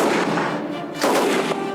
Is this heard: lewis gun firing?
yes